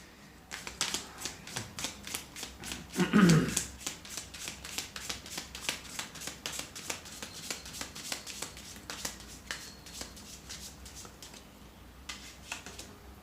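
Tarot cards are shuffled and drawn by hand: rapid, evenly spaced flicking snaps run throughout, with a louder rustle of handling near the start.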